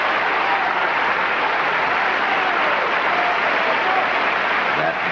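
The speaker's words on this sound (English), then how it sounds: "many of them standing on their feet, applauding and cheering" Concert audience in a hall applauding and cheering Luciano Pavarotti at a 1983 orchestral concert, a dense, steady wall of clapping that stays loud and continuous throughout.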